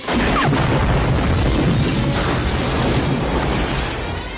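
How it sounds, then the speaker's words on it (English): A massive, rumbling explosion fills the clip, loud and sustained, its roar slowly fading toward the end. "It's not enough to set off a big explosion."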